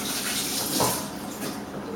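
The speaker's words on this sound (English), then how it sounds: "I'm going to give my hands a quick wash because I've been handling chilies." Hands washed under a running kitchen tap after handling chilies, a loud continuous gush of water splashing into a sink for two seconds, close by, with no voices.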